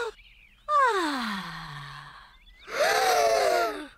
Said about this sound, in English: Excellent breathing.